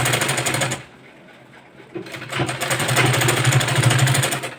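Sewing machine stitching a hook strip on a boat-neck blouse, running in a loud steady whir that stops for about a second, then restarts and runs continuously to the end.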